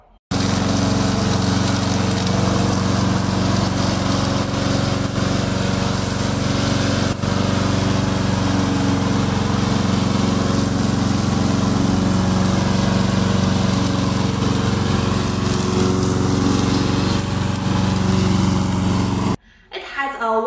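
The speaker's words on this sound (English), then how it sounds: "This is our remote controller mower." A remote-controlled lawn mower runs continuously at close range, a loud steady engine drone with a constant pitch that cuts off near the end, while a voice speaks over it.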